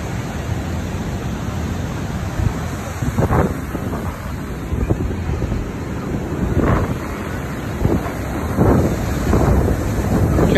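Ocean waves break and wash on the beach at Canoa, Ecuador, a steady broad roar with several surges rising over it and heavy wind buffeting the microphone throughout.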